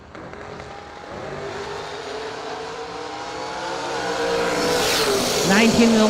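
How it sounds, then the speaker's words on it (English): Drag racing cars launching side by side at a Christmas bash event, one a 1962 Chevy II, engines building to a loud roar with a rising whine near the end while an announcer talks over it. "Bobby Love, 530 out of Suffolk, Virginia in the 62 Chevy 2"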